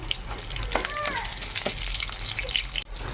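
Onion pieces fry in hot oil with mustard seeds, cumin, urad dal and chana dal for a brinjal tomato curry, a steady, close, loud sizzle with faint stirring.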